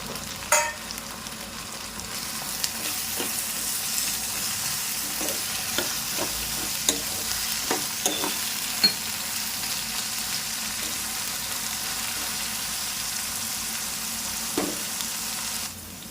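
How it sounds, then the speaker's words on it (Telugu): Moong dal fries in oil in a pan for a Telugu amaranth-leaf dal dish, giving a steady bright sizzle throughout with occasional sharp spatter pops and clicks of stirring, fairly close and with no talking. "పెసరపప్పు కూడా నూనెలో ఫ్రై కావాలి."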